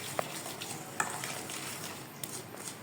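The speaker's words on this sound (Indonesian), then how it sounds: "sekarang kita aduk menggunakan sendok dulu supaya nanti mudah untuk tercampur ya" A spoon stirs peanut batter for Indonesian egg-coated peanuts (kacang telur) in a bowl, giving a steady wet scraping and swishing with a few small clinks of spoon against the bowl.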